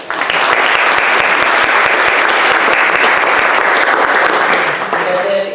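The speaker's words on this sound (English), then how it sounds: "She's not here, so we're going to applaud for CK." Sustained audience applause at an evening Black History Month event on a university campus, loud and steady for several seconds with no speech over it, then trailing off slightly at the end.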